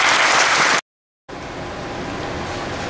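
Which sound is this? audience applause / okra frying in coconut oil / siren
audience applause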